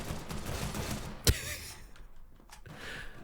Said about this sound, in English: Look how fast it's firing.